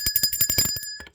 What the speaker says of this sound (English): Let's ring the bell for the Scorpio.